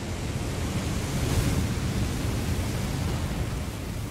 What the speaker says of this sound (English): That'd be why it doesn't sound promising at all, because it's a bloody flamethrower.